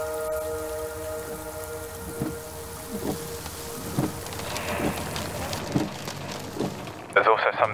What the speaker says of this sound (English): It's siling down with rain.